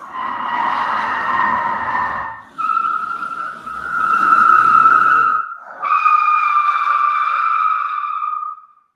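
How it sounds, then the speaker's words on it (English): Car tyres skid across a surface in three long squealing bursts, each a sustained screech lasting a few seconds with brief gaps between, loud and close with no voices. "Skidding, the tyre moving against the direction of travel, can be any and all of the wheels."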